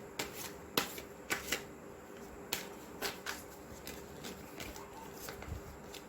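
A deck of oracle cards is shuffled by hand, producing quick crisp riffling snaps and flutters in uneven bursts, close and fairly quiet.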